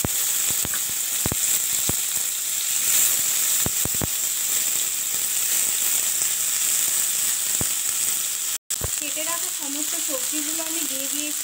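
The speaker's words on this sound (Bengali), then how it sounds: "তেল দিয়ে দিয়েছি, তেলের মধ্যে কিছুটা কালো জিরে ফোড়ন দিয়ে দিয়েছি" Vegetables sizzle in hot oil tempered with black cumin for eggplant bhaji, a steady frying hiss with a few sharp pops and a brief stir near the end.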